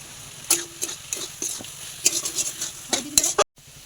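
Grated potato and pointed gourd are stirred and sautéed in a pan, with repeated close scrapes and metallic clinks of a spoon over a low sizzle, then a sudden cut to near silence.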